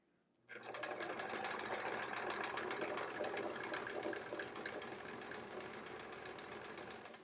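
A sewing machine runs steadily while free-motion quilting a small circle. Its fast, even needle hum starts abruptly and holds close and constant for several seconds with no talk.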